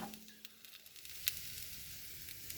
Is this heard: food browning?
yes